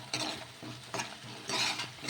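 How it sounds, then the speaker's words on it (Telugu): A spoon stirs a ginger garlic paste mixture in a cooking pan, making repeated scraping strokes with a light sizzle, close and clear and with no talk. "ఇలా ఈ విధంగా మొత్తం కలిపేసుకొని"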